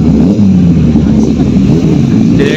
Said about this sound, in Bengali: ও ভাই হায়াবুসা